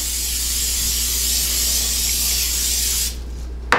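A steady, loud hiss of aerosol cooking oil spray onto a baking dish runs for about three seconds and then cuts off, followed by a brief clatter.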